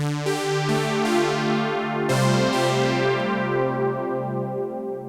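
A lush, brassy analog synth patch in Oberheim style plays sustained chords that change every second or so, with rich harmonics and long decaying tails.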